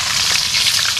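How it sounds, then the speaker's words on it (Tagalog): Fish fries in hot cooking oil, giving a steady, close, loud sizzle and crackle that fills the whole moment without any talk. "Yun, start na tayo magprito."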